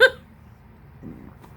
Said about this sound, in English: I have the hiccups